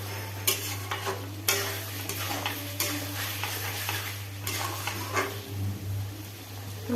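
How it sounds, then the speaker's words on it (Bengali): Chicken stirred over and over in a pan as it cooks in its own juices: repeated scraping, clattering stir strokes over a soft simmer, with a steady low hum running beneath. "এটাকে বারবার করে নেড়ে নিতে হবে, এরকম করে নেড়ে নিতে হবে।"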